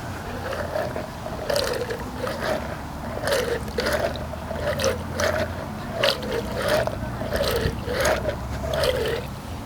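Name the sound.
dog's muddy paw plunged into Mud Buster paw cleaner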